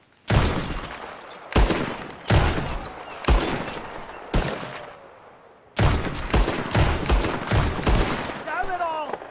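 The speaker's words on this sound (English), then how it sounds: "Whoever shoots more of these bottles wins." Revolver shots from a bottle-shooting contest in Red Dead Redemption 2, sharp loud cracks in a few separated shots early on, then a fast rapid string of shots near the end.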